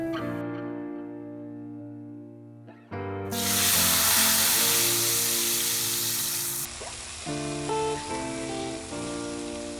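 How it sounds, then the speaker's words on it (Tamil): Peanuts dropped into hot oil for a Chettinad puliyodharai, opening with a loud burst of sizzling and hissing that settles into a steady frying crackle. "இப்போ எண்ணெய் நல்லா காஞ்சிருச்சு. நம்ம நிலக்கடலை வறுத்துக்கலாம்."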